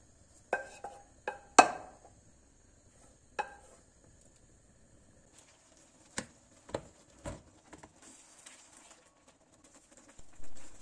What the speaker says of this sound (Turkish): Tatlımızı tencereden tavamıza alıyoruz.